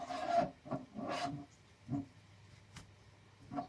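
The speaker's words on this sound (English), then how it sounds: "Just get it all slopped on there and get it rubbed in. Get it buffed in there." Polish being rubbed and buffed onto a hookah in short, rasping strokes that come in uneven bursts, close and fairly quiet, with no talking.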